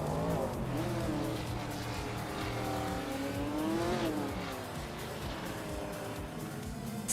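Race cars roar continuously in a racing video game, engines revving and shifting pitch as they run nose to nose, with tire squeal and a dense, loud wall of engine noise throughout.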